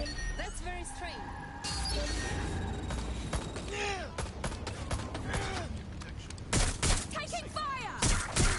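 Gunfire in the Watch Dogs Legion video game: rapid volleys of sharp shots and bursts, with clinks and thuds, crowd together loudly while voices speak through the exchange.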